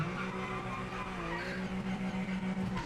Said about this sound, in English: A really weird grinding sound like when I'm pushing the brake or the accelerator.